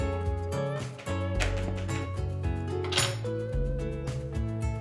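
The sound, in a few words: whisking wet ingredients with a fork in a bowl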